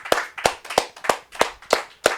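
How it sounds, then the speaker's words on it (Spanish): A church congregation claps in unison, seven sharp, evenly spaced claps about a third of a second apart, loud and close with nothing else over them. "Den un aplauso al Rey, hermanos."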